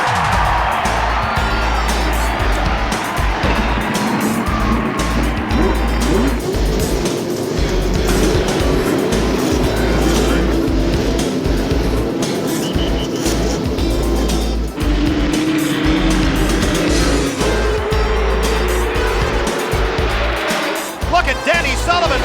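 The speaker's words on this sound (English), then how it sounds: "Gentlemen, start your engines." Indy 500 race cars roar together in a dense, continuous wall of engine noise at the start of the race, with crowd and track ambience and a commentator talking over it.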